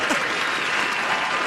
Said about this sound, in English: Where's the applause for me?